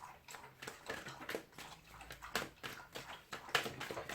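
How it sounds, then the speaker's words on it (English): A dog laps water from a bowl close by indoors, a quick irregular series of wet slurping laps and small splashes that come in short bursts. "the dog's having a drink and he's right next to us."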